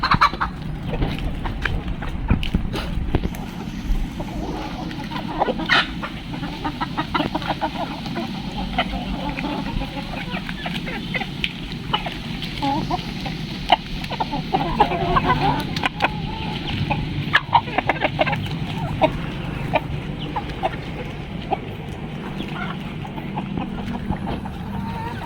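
A busy farmyard of poultry including chicks, with small peeping and clucking sounds throughout and occasional gobbles, steady and fairly close, plus faint background noise.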